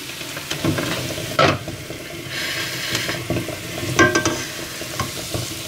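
Sauce poured into a hot pot of meat and bones sizzles, with stirring and scraping bursts over a continuous frying hiss.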